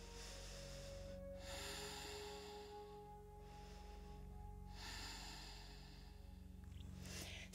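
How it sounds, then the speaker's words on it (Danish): Deep breathing during a yoga session, slow inhales and exhales in long alternating swells, close and quiet over a low steady background hum, with no talking. "Dybe vejrtrækninger til."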